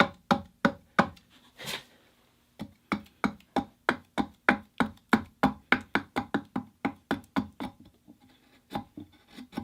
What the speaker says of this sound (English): Like that nice slicing action I'm getting can only be had with a sharp axe